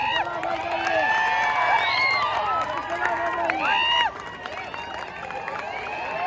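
A crowd at a bodybuilding competition in Kolhapur cheers and whoops loudly, with scattered clapping. Shouting voices with rising and falling pitch dominate, and the noise drops suddenly near the end.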